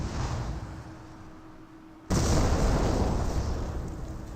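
An artillery barrage in the strategy game Company of Heroes erupts in a sudden heavy boom that swells into a sustained roar of explosions after a stretch of low battlefield rumble.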